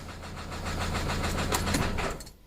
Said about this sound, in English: She's idling down right where she should be.